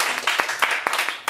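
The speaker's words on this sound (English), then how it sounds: "I think we should give you a round of applause" A small group gives a brief round of applause, with scattered claps in a quick, uneven rhythm and a voice faintly audible beneath.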